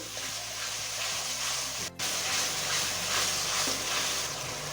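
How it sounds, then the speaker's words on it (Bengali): Tomatoes stir-fried in a pan for Bengali chicken kaliya give a loud, steady sizzle and hiss, with a brief drop in the noise midway, and no one speaking. "টমেটোটা দিয়েও এবার একটুখানি কষিয়ে দিতে হবে"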